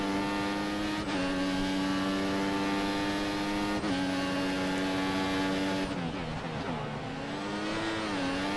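Toro Rosso Formula 1 car engine in F1 2014 at the Bahrain Grand Prix, a loud, sustained high-pitched whine with sharp upshifts at regular intervals and a brief lift and downshift near the end, alone without talk.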